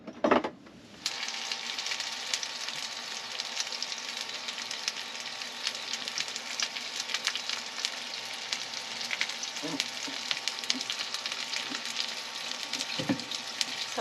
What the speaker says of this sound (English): And then you're just gonna cook that in butter?